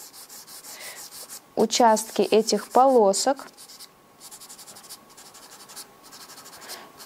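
A blue Daler & Rowney pastel pencil scratches across paper in steady, close strokes, rasping on and off, while a person speaks briefly over the middle of the drawing.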